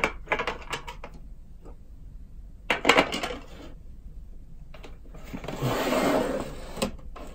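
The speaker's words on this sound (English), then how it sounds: "Go ahead and put these lids back on." Lids being snapped back onto small glitter glue bottles, heard as close plastic clicks and rattles in short clusters, followed by a longer rustling, scraping stretch near the end.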